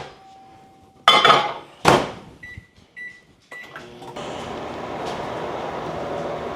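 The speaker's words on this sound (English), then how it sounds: "when I put it into the microwave and click the melt function" A couple of clunks and clicks, two short beeps, then a microwave oven starts running on its melt function with a steady hum.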